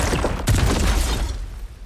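Gunfire strikes an enemy in the video game Horizon Forbidden West, a heavy burst of noisy impacts with a sharp crack near the middle, loud and dense, fading into a rumbling tail, with no talk.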